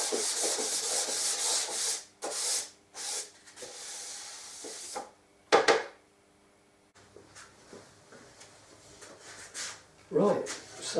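Wooden archtop guitar top plate being scraped and sanded, with repeated bursts of rough, hissy rubbing strokes separated by short pauses, close and fairly loud, alongside some handling knocks.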